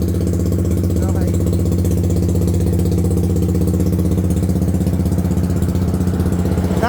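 A Suzuki Raider fi motorcycle with a remapped engine running on a dyno, its loud, steady, buzzing exhaust drone holding at a constant pitch close by, with a faint rising whine at the end.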